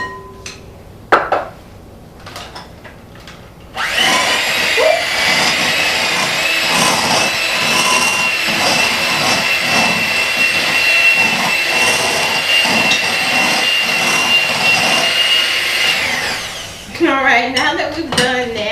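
An electric mixer creams cream cheese and butter together for a chocolate chip holiday cake, a loud steady whir running for about thirteen seconds after a few knocks, then stopping as a voice speaks.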